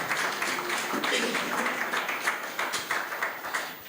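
At a Ministry of Industry and Commerce community programme, an audience applauds after a speech with a steady wash of clapping that continues throughout, while voices can be heard beneath it.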